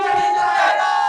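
A dense crowd of political supporters at an outdoor rally in India, backing Rahul Gandhi, roars in a sustained, loud collective cheer with many overlapping voices and no clear individual speech.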